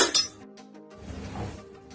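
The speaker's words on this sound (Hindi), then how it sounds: "सबसे पहले हम फ्राई पैन रखेंगे और 1 चम्मच ऑयल डालेंगे" A frying pan set down with a sharp metallic clink, followed by a softer scrape and clatter as a spoonful of oil goes in, in a home kitchen while cooking anda bhurji.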